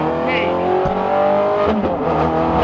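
A loud, aggressive supercar engine revs hard and roars continuously close by at low speed, pitch rising and falling with throttle.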